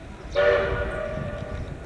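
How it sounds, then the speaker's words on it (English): A train sounds a sustained horn tone over rumbling rail noise at a Chicago rail yard, fairly close, with a steady low rumble continuing after the horn fades. "the sounds of trains running about the grounds"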